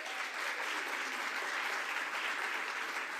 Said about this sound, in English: if we want to give a round of applause to that